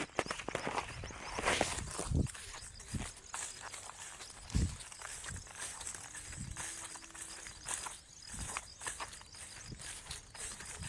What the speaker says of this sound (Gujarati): હું પાણીમાં હેડું છું.